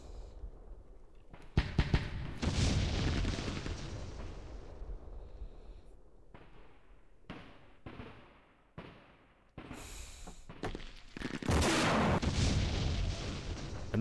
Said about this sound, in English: There's his mortars.